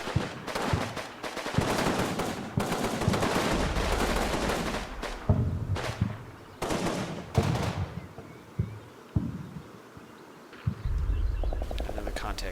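Small arms gunfire in the Combat Mission Battle for Normandy video game: loud, irregular bursts and single cracks of rifle and automatic fire that come in dense volleys with short gaps between them.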